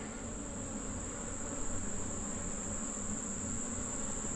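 Honey bees swarming around an open beehive, a dense continuous buzzing hum heard close by and steady throughout, with a faint high whine above it and no talking.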